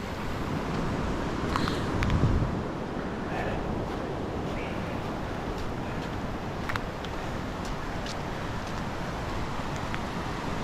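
A fast-flowing creek near Punchbowl Falls in New South Wales runs over rock with a broad, steady rushing wash, close and continuous, with a slightly louder surge near the start.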